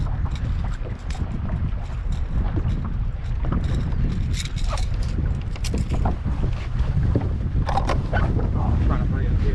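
Strong wind roars steadily over a fishing boat on the water, a loud continuous buffeting rush against the microphone with hull and water noise underneath.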